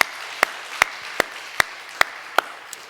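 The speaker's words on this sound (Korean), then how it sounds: "먼저 하나님께 다시 한번 더 영광의 박수 올려드립시다." During a Korean Thanksgiving Sunday morning service, about seven sharp, evenly spaced claps ring out in steady unison rhythm over a quiet room hush.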